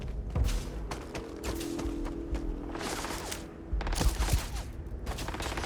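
A strong gun in Starfield fires in quick clattering bursts, loud and close, with a brief lull before another heavy volley near the end.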